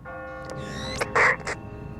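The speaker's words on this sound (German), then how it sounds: "Der Glockenturm, der ruft doch jetzt die ganzen Viecher bei." A church bell rings from a bell tower in The Walking Dead video game, a few bright metallic strikes over a low ambient hum, with no talking.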